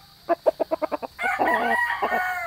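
A gamecock rooster, a yellow-legged Gray fighting cock, crows loudly and close: a quick run of short clucks leads into one full, harsh cock-a-doodle-doo.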